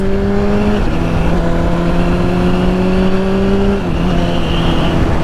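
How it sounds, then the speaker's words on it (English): A sport bike engine revs hard through clutchless upshifts, giving a loud, close, continuous buzzing whine that climbs in pitch and then drops sharply twice as the gears change. Nobody talks over it. "I'm letting go of the throttle, popping my clutch up, and then rolling the throttle back on"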